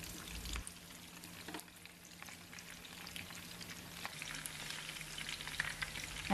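Pork and betel leaf rolls fry in oil over medium heat, giving a steady close sizzle with scattered pops and crackles and no voices.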